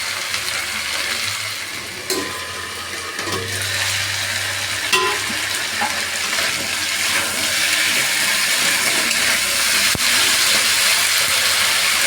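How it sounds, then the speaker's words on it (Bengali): Potato pieces spiced with turmeric, cumin and chilli powder fry in an oil-filled pan for soybean curry, a loud continuous sizzle with occasional stirring scrapes and clinks close by. "তো আলুটা একটু ভেজে নিচ্ছি"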